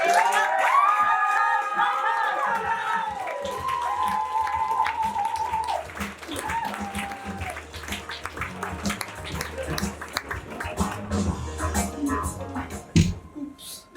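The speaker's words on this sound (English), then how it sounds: "What we should do now is keep the applause going for our next fabulous act." Audience at a Bright Club comedy night in Edinburgh claps and cheers between acts, with whoops and crowd noise rising and thinning, mixed with music at the start and scattered louder claps toward the end.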